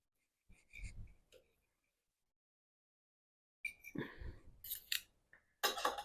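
A knife slices through fresh-cabbage potato pancakes on a plate, a short scrape near the start, then several crisp cutting and clinking strokes after a silent gap, close and fairly quiet.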